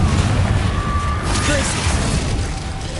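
Confringo fire-spell explosions in Hogwarts Legacy, a dense, rumbling blast and crackle that fills the moment with continuous heavy booming and a higher whistling streak.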